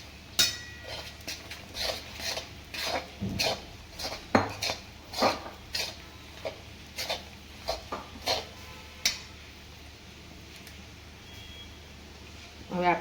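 A spoon stirs a thick peanut barfi mixture in a pan, producing a steady series of close metallic clanks and scrapes at a regular rhythm that thins out and stops near the end.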